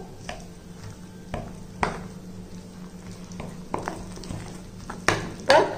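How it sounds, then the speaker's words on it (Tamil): Spinach dosa batter with pink salt being stirred by hand in a bowl, with soft mixing sounds and a few sharp clinks and knocks of a utensil against the vessel, close and fairly quiet. "இதை எல்லாத்தையும் நல்லா மிக்ஸ் பண்ணிக்கிடுவோம்."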